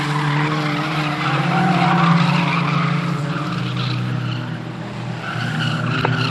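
Race cars, including a little Mini, tear around a circuit with sustained engine roar and squealing, skidding tires throughout, loud and close with no voices.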